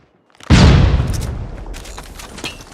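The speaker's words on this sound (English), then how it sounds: "Flashbang." A flashbang grenade detonates in Call of Duty Mobile with a sudden loud boom, followed by a long, fading ringing tail and faint scattered game noises.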